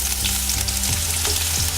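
Onion sautéing in hot olive oil, a steady broadband sizzle with a few stirring scrapes, close and continuous throughout with no talking.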